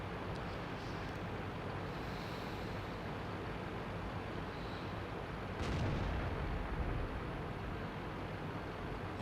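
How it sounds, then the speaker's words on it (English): A Löwe heavy tank fires its gun in World of Tanks, one heavy boom near the middle over steady low battle rumble. "here's this guy firing his gun in the Löwe"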